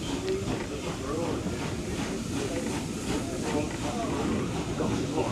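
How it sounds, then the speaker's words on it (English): A steam train's wheels slip near Blue Anchor and Minehead, giving a loud, continuous roar of hissing steam and rapid chuffing that stays steady throughout. "Well, the train is slipping"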